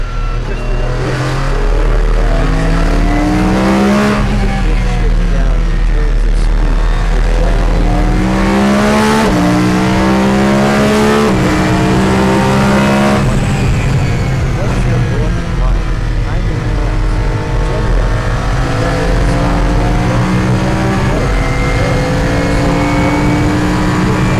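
A very loud race car launches and accelerates hard, its engine note climbing through repeated gear changes in rising sweeps, with a voice speaking over the roar.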